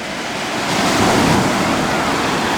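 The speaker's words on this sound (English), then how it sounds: "quickly fill up the hole before the waves come crashing in for a 5th time" Ocean waves crash onto a beach in a loud, close, continuous surf roar that swells around the middle before settling back.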